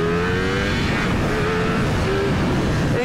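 A Ducati V4S motorcycle engine snarls loudly at high revs while riding, with the auto-blipper giving quick rev changes between gears over a steady roar of wind and exhaust.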